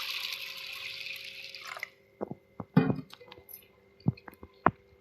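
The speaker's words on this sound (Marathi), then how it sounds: "आता साबुदाण्याला पातेल्यात टाकूयात आणि आता याला स्वच्छ धुवून घेणार आहे।" Sago pearls are washed in a pot of water, with a steady rush of pouring water followed by scattered wet squishes, drips and small clinks as the grains are stirred by hand.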